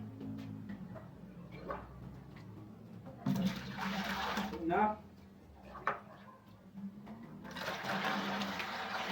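Water from one-litre jugs is poured onto a load resting on a noodle bridge, splashing and gurgling in several loud bursts between quieter gaps while a voice counts aloud.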